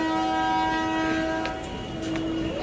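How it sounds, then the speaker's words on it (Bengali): A train at a railway station holds a long, loud, steady horn blast that dips slightly before carrying on, over a low rumble of station noise. "এই একটা ট্রেন দাঁড়িয়ে আছে।"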